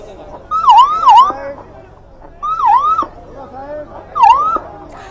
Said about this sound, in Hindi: एम्बुलेंस की आवाज हम सुन पा रहे हैं